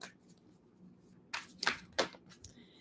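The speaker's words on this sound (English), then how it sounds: "I'm going to shuffle the decks, and then I'm going to cut them into 3 piles" A deck of tarot cards riffled in several quick, sharp bursts close up, with a quiet pause before them and a soft rustle afterward.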